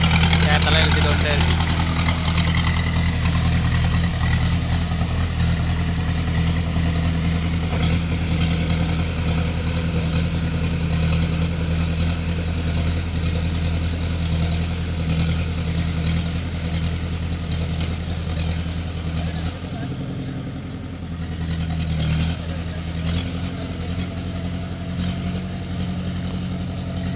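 A Mahindra B 275 DI tractor fitted with cage wheels runs steadily nearby, its diesel engine holding a loud, even low thrum with a brief dip near the end, while people talk over it.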